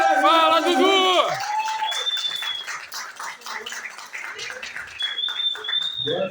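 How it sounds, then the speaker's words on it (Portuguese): A crowd claps and cheers, with whistles, at a Baixada festival in a museum in Duque de Caxias, Brazil. Close, brisk clapping follows a loud voice and runs under scattered shouts. "Muitas palmas, muito barulho."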